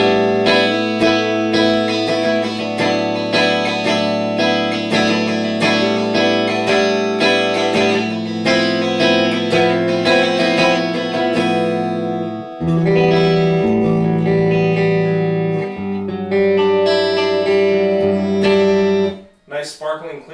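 Electric guitar played through a Mesa Boogie JP-2C amp on its clean channel, bright and sparkling, with ringing sustained chords and arpeggios loud and alone, pausing briefly before further chords and a final fade.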